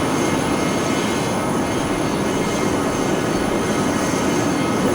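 Inside the cabin of a Learjet 45 jet at Kelowna, a steady loud engine hum and airflow roar with a faint high tone runs unchanged, and no one speaks.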